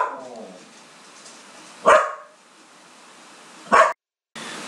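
Dogs barking, two loud sharp barks spaced about two seconds apart over a quiet hiss, with a faint whimpering yelp at the start.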